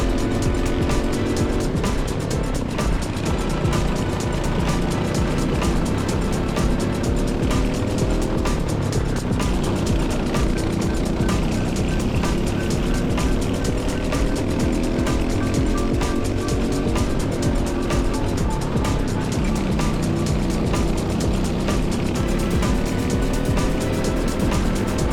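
A GX racing kart laps a track at Rye, its engine a loud, close, continuous buzzing whine that climbs and falls in pitch through the corners and straights without a break.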